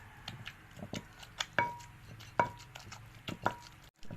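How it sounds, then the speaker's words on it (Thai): Canned fish being pounded in a mortar for Lao-style tam jaew, sparse irregular thuds and clicks of the pestle, about a handful of strikes, close and fairly quiet. "ตำปลาก่อนเลย"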